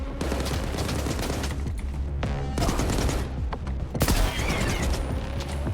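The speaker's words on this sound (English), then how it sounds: "he fights with a RPK" Bursts of RPK machine gun fire in the STALKER 2 video game, loud and sustained, with dense rapid volleys broken by brief pauses and heavy booming impacts throughout.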